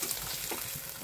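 Eggs frying in oil and turmeric on a flat griddle pan, a soft steady sizzle close by with no talk.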